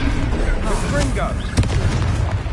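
A Confringo fire spell exploding in the game Hogwarts Legacy, a booming burst around midway over loud continuous game noise, with voices and effects around it.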